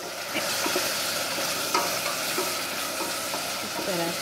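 Chopped tomatoes and turmeric fry in a pan for dal tadka, making a continuous close sizzle with soft scraping stirs throughout.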